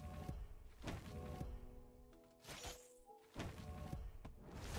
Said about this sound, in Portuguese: agora é uma explosão de fogo